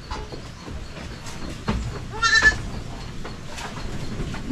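Goats bleat on a small Filipino farm where several does are pregnant. One clear, wavering bleat rises midway over a steady background of farm noise, with fainter animal calls around it.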